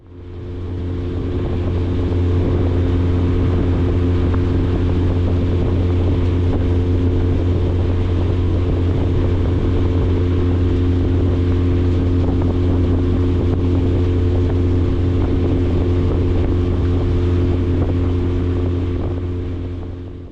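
A small boat on a lake under a 20 hp outboard motor, a steady loud droning engine hum held unbroken with wind rushing across the microphone.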